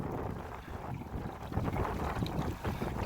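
A small boat pushed at top speed by a Minn Kota electric trolling motor mounted on the transom, heading into a headwind; steady wind buffeting and water wash dominate, fairly loud and continuous.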